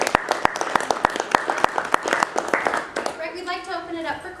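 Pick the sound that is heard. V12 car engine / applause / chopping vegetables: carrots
applause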